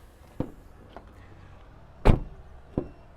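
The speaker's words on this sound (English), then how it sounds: "Front doors are a little bit more heavier, so they sound a little bit better" Renault Rafale 2025 full hybrid car doors being opened and shut, a few sharp close-up thuds and clunks spaced over a few seconds, one heavy slam standing out louder than the rest, with no talking.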